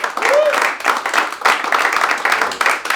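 An audience at a stand-up comedy show claps in a rolling wave of applause that swells and dips, with a voice heard over parts of it.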